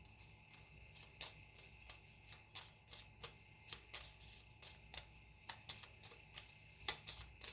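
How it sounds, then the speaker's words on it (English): Small deck of about twenty playing cards shuffled by hand, a series of quick crisp riffling snaps at an even rhythm, close and quiet, with no talking. "I'm gonna try my best to shuffle them"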